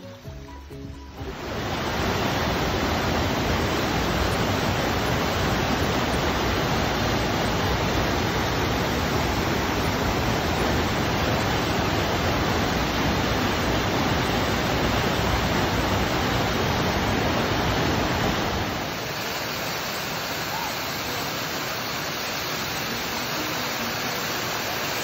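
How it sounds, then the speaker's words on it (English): Waterfalls on a Montana road trip roar as a loud, constant rush of falling water up close, a steady broadband wash that persists unbroken with a slight drop in level near the end. "look at these waterfalls"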